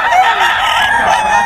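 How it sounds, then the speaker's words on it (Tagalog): Dense chorus of chickens and roosters at a busy fowl market in Bocaue, many birds crowing and clucking at once in a loud, continuous wash of sound. "Bagsak presyo ang mga manok ni Boss Ray."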